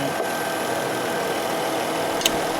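A Chrysler Town & Country van's engine idles steadily up close, a low even hum holding throughout with one brief click near the end.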